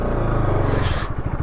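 Bajaj Pulsar RS200 motorcycle climbing an off-road trail, its engine a loud, close, steady drone that turns choppier and sputters near the end of the clip.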